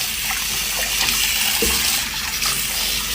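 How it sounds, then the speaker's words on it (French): Water from a tap runs steadily and loudly into a sink while a face is rinsed, with a soft splash partway through. "Attendez, je rince mon visage."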